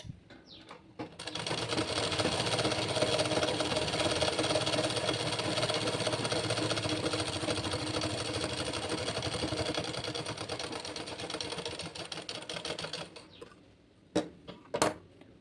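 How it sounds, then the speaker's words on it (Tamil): A sewing machine top-stitches along a blouse sleeve in one steady, close whirring run of about eleven seconds, then winds down and stops, leaving a few light clicks. "இப்போ மேல் பக்கமாக இன்னொரு டாப் ஸ்டிச் போட்டுக்கலாம்."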